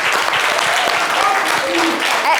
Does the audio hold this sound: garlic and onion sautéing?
no